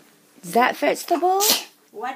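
A single sharp sneeze bursts out amid several people chatting in a home kitchen during a Christmas gathering, close and loud between spoken phrases.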